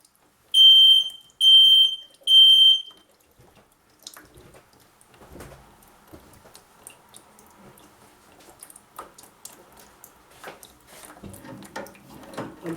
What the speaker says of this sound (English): fire alarms going off because I got quite a bit of heat on it